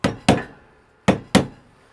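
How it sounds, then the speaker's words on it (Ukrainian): Four sharp hammer taps on a metal plate holding a bearing to a shaft end, in two pairs with a pause between, close and fairly loud with short ringing decays, while replacing a VW Touran cabin fan. "вистукую ось цю пластину, яка підшипник притискає до кінця валу"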